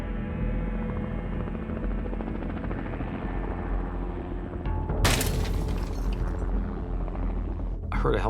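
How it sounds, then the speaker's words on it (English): A helicopter flying over an active volcano, its steady rotor thump and turbine drone continuing close and loud, broken by a sudden crack or bang partway through, with a voice speaking over it. "heard a helicopter."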